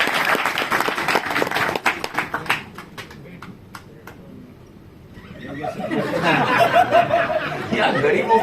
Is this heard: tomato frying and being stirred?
no